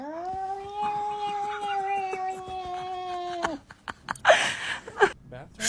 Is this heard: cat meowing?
yes